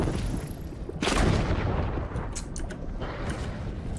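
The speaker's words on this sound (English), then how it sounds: "You shoot them twice and then they just explode." After being shot, an explosive object in the alien world of Journey to the Savage Planet bursts with one loud, sharp blast followed by a rumbling, crackling tail.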